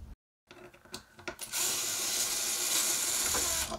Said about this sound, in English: Remove the 2 screws holding the operator assembly.